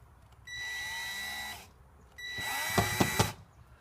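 A power drill whirs in two bursts, the second driving a 2-inch screw into wood without pre-drilling, with a heavier, straining tone and a few knocking jolts.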